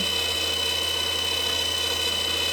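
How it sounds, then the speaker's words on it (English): A steady, loud whirring hum carries on without a break, with a broadband hiss over it, as a wooden tamper part is sanded while spinning on a lathe. "It makes it a little easier about finishing if you sand it on the lathe."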